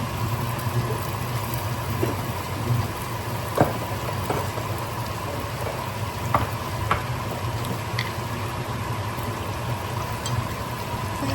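Onion and shallot frying in a pan for a Vietnamese tilapia and pickled mustard soup, giving a steady low sizzle and crackle with occasional sharper pops and utensil clicks, no talk over it.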